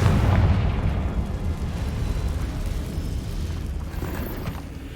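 A Confringo spell explodes in the video game Hogwarts Legacy, a loud booming blast up front that decays into a rumbling, crackling tail lasting several seconds.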